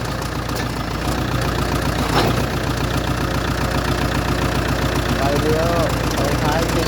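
The engine of a 2012 Kubota L4708 tractor idles steadily nearby, a constant low rumble with faint knocking, while a voice speaks briefly over it.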